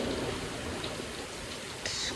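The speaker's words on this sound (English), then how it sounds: "I hear little rain. I'm like, is it raining?" Light rain falls outside as a steady soft hiss of patter, continuous and even, with a few faint brighter ticks of droplets near the end.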